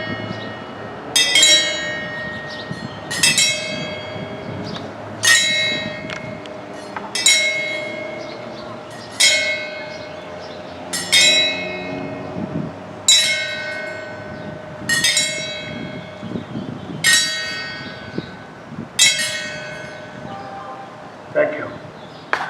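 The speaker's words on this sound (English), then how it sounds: "bells were rung for peace" Church-style bells rung for peace at a Peacestock gathering strike in a slow, regular series of about ten bright, ringing peals, each decaying over a steady background hum.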